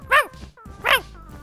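A person imitating a dog, giving two short, sharp barks close up, each followed by a brief breathy pause.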